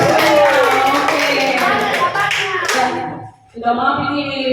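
A group of teachers clapping hands at a school session, a mix of claps and taps blended with voices talking, then breaking off briefly before a voice continues.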